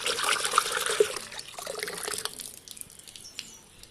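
Water runs and splashes in a domestic setting, a bright, steady rushing stream with dripping and trickling that gradually thins out and quiets over a few seconds, heard close and alone.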